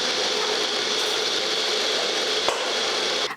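A new kitchen mixer grinder runs steadily with a dense, loud whirring drone and no talking, then cuts off at the end.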